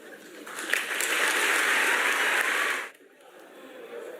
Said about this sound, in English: did you hear the crowd clapping loudly